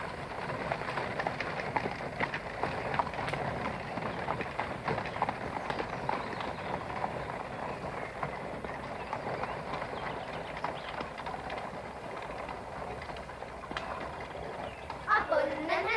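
Horse named Svea clip-clopping steadily while pulling a cart, hooves beating in a continuous rhythm with rolling wheel noise and voices talking over it throughout.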